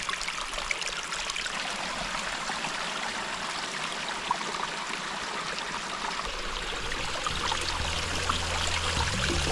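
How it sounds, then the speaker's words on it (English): Continuous gentle rush of flowing water, a small creek near Mount Lowe trickling over stones, steady and fairly close, with a low hum entering near the end. "This small creek separates the road from the Backpackers Trail Camp"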